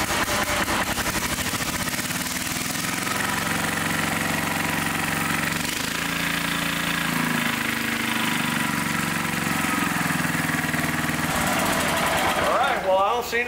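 A 1961 David Bradley engine runs steadily at half throttle, a loud, continuous close-up drone with a slight shift in pitch partway through, and talk over it.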